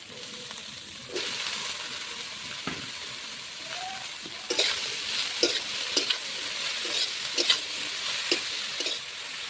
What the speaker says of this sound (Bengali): পেঁয়াজটা হালকা লাল লাল করে ভেজে নেব।